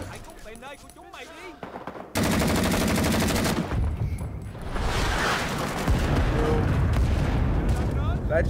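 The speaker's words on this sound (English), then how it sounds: "Crap, we're getting artillery." Artillery fire in a video game, a sudden loud barrage of booming, rumbling explosions and rapid gunfire that starts abruptly and continues densely, with voices talking in the mix.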